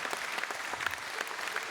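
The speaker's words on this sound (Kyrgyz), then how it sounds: "Бир кол чаап коюңуздар, спортчуларыбыз бар болсун." Audience at a live stand-up comedy concert bursts into dense, steady applause, a continuous wash of many hands clapping close and loud for a brief moment.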